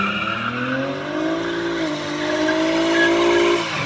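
A seventh-generation Honda Accord with an automatic transmission doing a burnout, tires squealing in loud sustained wavering tones over a constant roaring engine.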